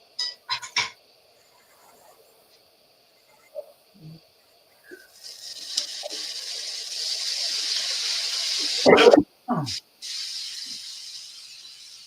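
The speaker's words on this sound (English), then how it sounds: "I'll just go ahead and clean the griddle" Water sizzles on a hot griddle while it is cleaned, a bright steady hiss that builds midway and runs on for several seconds, with sharp scraping bursts and clatter before and after.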